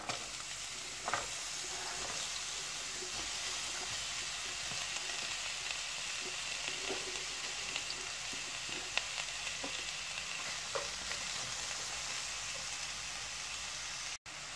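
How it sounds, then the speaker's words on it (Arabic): Onion sizzles and fries in hot vegetable oil in a heated pan, a steady crackling hiss running the whole time with occasional louder pops and stirring clicks, close and alone. "المقله بعد ما كتسخن كنديروا فيها شويه ديال زيت نباتيه، ومباشره غادي ندير فيها البصله"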